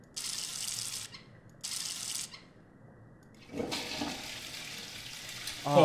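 Toilet flushing in the horror game The Mortuary Assistant, two short hissing water bursts followed by a longer rushing flush that swells near the end, heard close with no talk.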